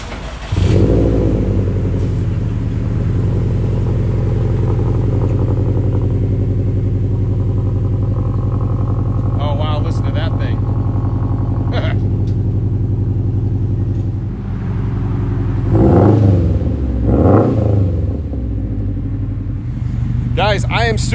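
Modified four-cylinder car with a new exhaust system idles and revs with a deep, steady low burble, loud and close, with a few sharp blips and revs later and a person talking over it at times.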